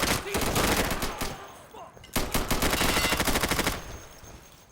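Rifle gunfire in the tactical shooter game Insurgency, two loud bursts of rapid automatic shots separated by a short pause, close and harsh.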